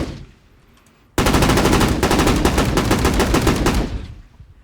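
Designed game gunfire sound effect built in REAPER: after near-silence, a loud, rapid automatic burst of full-bodied shots fires for about three seconds, then decays into a short tail.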